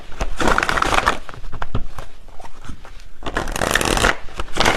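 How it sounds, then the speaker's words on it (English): Tarot cards are shuffled and drawn. Two loud, close riffling bursts of shuffling frame a quieter stretch of card handling, with no voices. "Let me pull one final card"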